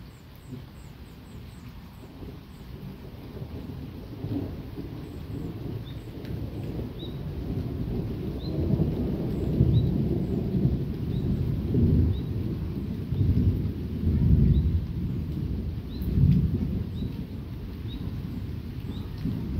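Thunder from a violent summer thunderstorm with intense lightning activity and a microburst, a strike landing somewhat closer than the others: a deep rolling rumble that swells and fades over many seconds, with faint bird chirps above and no speech.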